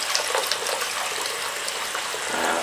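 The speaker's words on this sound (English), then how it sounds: "cleaning the core starts with filling a sink" Warm water runs steadily from a tap into a sink, a continuous close gushing splash with no voices over it.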